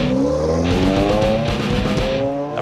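A 2004 Lotus Elise pulls away hard, its engine note climbing steadily while the tires squeal throughout, loud and close for the whole stretch.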